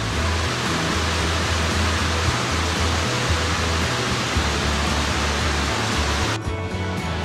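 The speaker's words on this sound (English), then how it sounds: "Oh, look at the waterfall." Steady, roaring rush of falling water, loud and continuous, with a deep rumble underneath.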